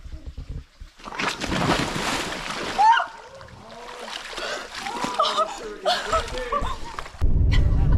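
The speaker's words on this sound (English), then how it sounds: "we got to see Lindsay fall in the water" Lindsay falls into water off a rock wall on a Baja outing, a loud splash and slosh erupting amid voices, with further water splashing and a heavy rush near the end.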